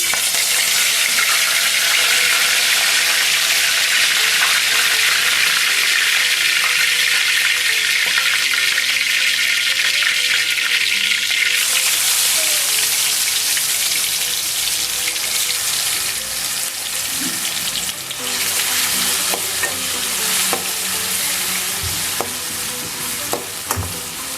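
Continuous loud sizzling of prawns frying in hot oil in a kadai, with occasional stirring clinks and scrapes; the hiss surges partway through.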